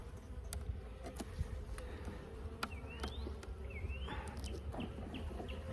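Honey bees drone around frames of a Langstroth hive during a spring inspection, a steady low buzz close by, with occasional clicks and a few distant bird chirps.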